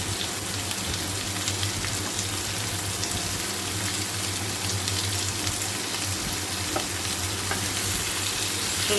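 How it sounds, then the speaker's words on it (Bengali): Vegetables, drumstick among them, being fried with a panch phoron tempering and moong dal in a pan, giving a continuous gentle sizzle broken by scraping stirs, close and unaccompanied by speech. "সবজিগুলো ফোড়নের সঙ্গে মিশিয়ে নিচ্ছি"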